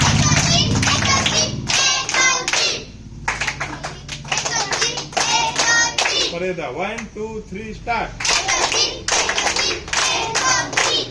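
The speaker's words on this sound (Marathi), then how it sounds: "आता 3च्या टप्प्यातली टाळी 1 2 3 स्टार्ट." Schoolchildren in a classroom clap in short repeated groups of three, crisp synchronized claps spaced between bursts of an adult voice counting and giving instructions, close and fairly loud.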